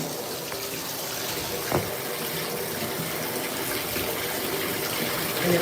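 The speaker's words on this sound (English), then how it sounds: "Let me rinse my hair." Tap water running steadily while hair is rinsed, a continuous broadband hiss with no talk, swelling slightly louder at the end.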